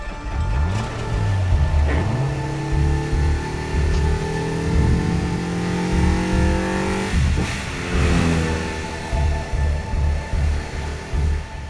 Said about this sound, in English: then starts the engine